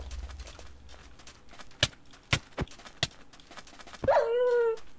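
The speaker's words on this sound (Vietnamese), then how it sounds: "thì chó cắn tao à?" A video game dog barks a few sharp times, then lets out a drawn-out whimper near the end, over quiet game ambience with faint clopping sounds.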